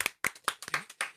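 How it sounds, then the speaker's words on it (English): Several people clap in a crowd for a livestreamed talk show, five sharp bursts of applause in quick rhythm, loud and close with no talking over it. "And Tyler Perry, who needs claps, and he's getting them right now"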